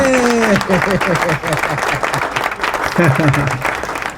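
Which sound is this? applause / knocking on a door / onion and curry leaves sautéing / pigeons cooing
applause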